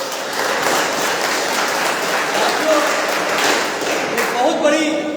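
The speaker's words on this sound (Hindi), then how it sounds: "उनके सम्मान में हम चाहेंगे कि ताली बजाइए" An audience applauds to honor a speaker at a public rally, a dense, sustained wash of clapping at moderate distance that carries on throughout.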